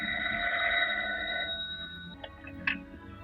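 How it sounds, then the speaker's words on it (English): Telephone bell ringing in a 1942 horror film soundtrack, a steady bright ring sustained for about a second and a half before fading, followed by faint clicks and handling noises. "I'm going to phone the sheriff right now."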